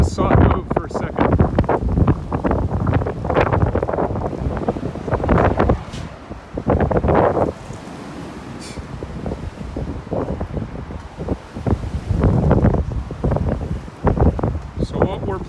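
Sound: wind blowing outdoors

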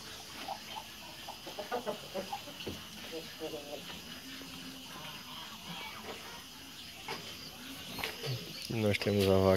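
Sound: white rooster clucking

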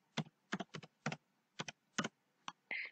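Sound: typing on a computer keyboard

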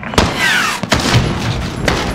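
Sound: gunfire in Call of Duty Modern Warfare video game

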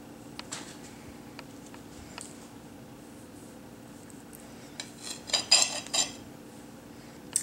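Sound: knife cutting eggs on a dish

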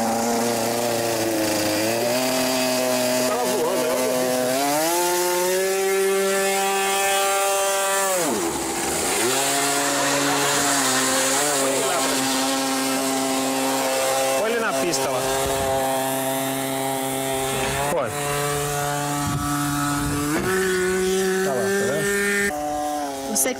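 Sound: fuel-powered remote-controlled aircraft engine revving

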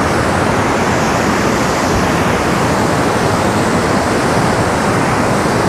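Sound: stream rushing strongly below Perunthenaruvi dam

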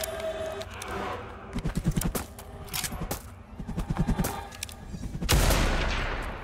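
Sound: gunfire in the video game Blood West

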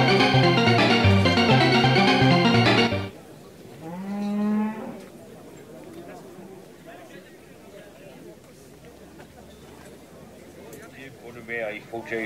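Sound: cow mooing

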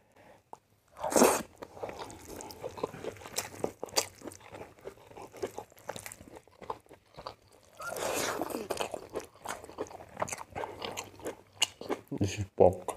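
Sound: chewing and eating a pork dish

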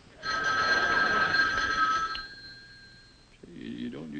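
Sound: telephone bell ringing

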